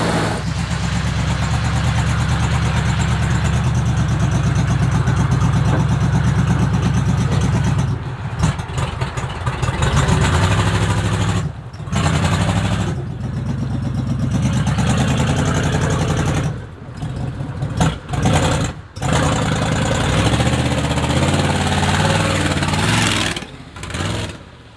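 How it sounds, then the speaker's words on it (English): A custom truck's V8-style engine idles before a Quadrajet carburetor rebuild, a loud, steady, rumbling idle running throughout with a few brief dips and lumps in the rhythm. "Let's just take a little flashback and listen to how the engine sounded before our work."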